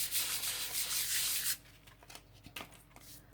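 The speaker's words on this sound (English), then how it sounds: "Just taking sanding paper and going" Sandpaper scrubs rapidly back and forth over glossy paper for about a second and a half, followed by quiet handling taps and rustles.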